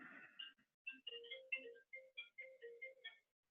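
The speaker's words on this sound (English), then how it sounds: "Ignore my cell phone going off in the background" A cell phone going off in the background, a melodic electronic ringtone of short tonal beeps in a bouncing pattern, faint and fairly distant in a quiet room, with no talking over it.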